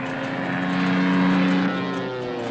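A damaged propeller plane taken from a rental repair line drones steadily in flight, a loud continuous engine hum with a wavering tone that swells slightly in the middle, with no voices.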